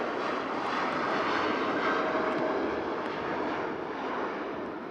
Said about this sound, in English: Jinyao Dreamliner heading back to Shanghai.